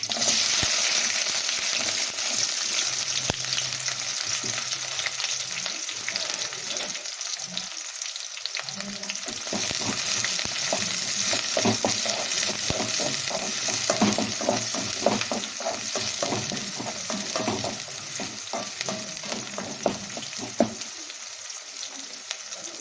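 Chopped shallots frying in oil with mustard seeds, a steady loud sizzle and crackle running the whole time with occasional stirring scrapes, no talking.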